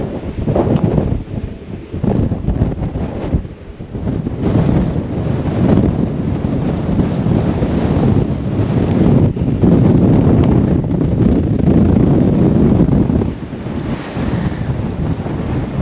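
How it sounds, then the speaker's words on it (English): Loud, continuous roaring wind on a mountain top on the Isle of Man buffets the microphone, a heavy rumbling gust that barely lets up throughout. "This is windy."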